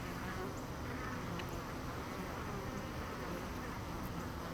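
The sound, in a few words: honey bees buzzing in a bee yard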